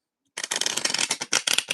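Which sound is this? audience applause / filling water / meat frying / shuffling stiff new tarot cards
shuffling stiff new tarot cards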